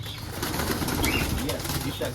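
Pigeons flutter and coo amid a noisy, busy outdoor background, with soft wing flapping blending into the constant hiss.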